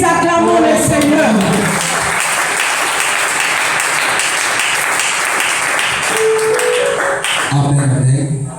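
A church congregation at a Pentecost Sunday service breaks into loud, sustained applause, a dense wash of clapping that fills the room, with voices and music heard at the start and end.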